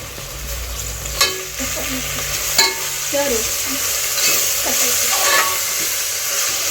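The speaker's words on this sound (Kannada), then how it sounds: "ಕೊತ್ತಂಬರಿ ಪುದೀನ ಹಾಕ್ಕೊಂಡು ಚೆನ್ನಾಗಿ ಫ್ರೈ ಮಾಡ್ಕೊತೀನಿ" A handful of coriander and mint leaves fries in oil for Ambur biryani. A steady close sizzle sits under repeated scraping stirs and a few metallic clinks against the pan, with no voices.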